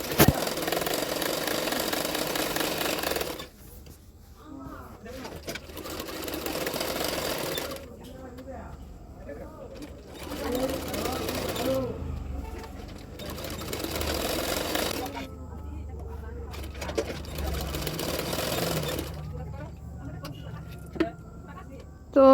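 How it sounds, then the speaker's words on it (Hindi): A domestic sewing machine stitches the belt pieces of a double katori blouse in bursts of steady mechanical whirring, stopping and starting several times, close and fairly loud, with someone speaking Hindi in the pauses. "बेल्ट का पार्ट भी इस तरह से रखते हुए सिलाऊंगी। दोनों पार्ट को देखते हुए सिलाना है।"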